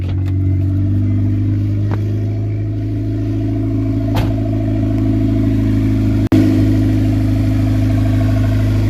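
A turbocharged Acura Integra engine at first startup, loud and close, steady rumbling with a few sharp clicks and a brief revving surge near the end.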